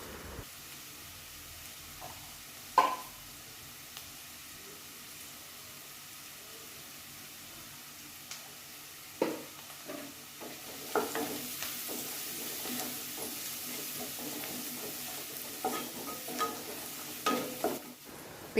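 Potatoes and carrots stir-fry in a pan, with soft sizzling and occasional scraping clinks of a spatula that grow into a steadier hiss and busier stirring toward the end.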